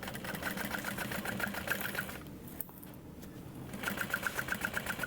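A sewing machine runs a half-inch seam on a tote bag, whirring in a close, rapid rhythm that stops briefly midway and then starts again.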